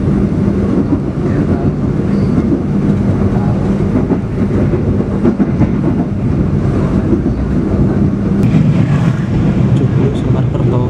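Inside the Argo Lawu train on the Yogyakarta–Jakarta line as the Argo Dwi Pangga passes: a loud, continuous rumble and rhythmic rail clatter with wind buffeting throughout.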